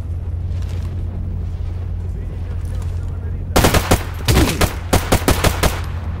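A grenade blast and then rapid bursts of automatic gunfire in the video game Stalker GAMMA. A low rumbling hum comes first, then loud, close shots arrive in quick repeated volleys.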